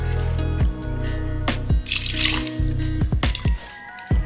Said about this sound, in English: I'm going to use a little bit of water.